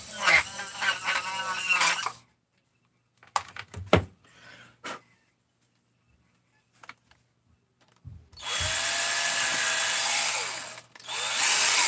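A Dremel rotary tool whines at high pitch for about two seconds, then scattered clicks and taps follow before the tool runs again in a long, steady buzz near the end.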